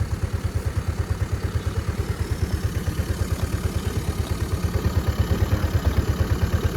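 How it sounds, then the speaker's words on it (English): A Chinese 150cc motor scooter engine idles steadily close by, its rapid even putter continuing without pause, running on after the fuel shutoff to the carburetor is closed. "We'll let it run for a bit, and when it stops on its own, it means that all the gas is depleted from the carburetor."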